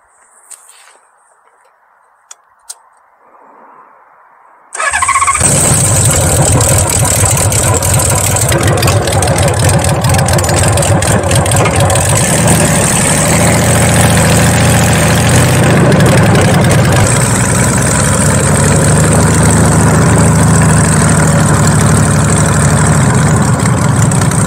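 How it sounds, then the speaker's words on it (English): A custom Honda Valkyrie bobber motorcycle engine bursts in loudly after a few seconds of quiet, then holds a steady, thick, close-up rumble with rising and falling revs as it rides on the road. "let's go hear what the bike sounds like on the road."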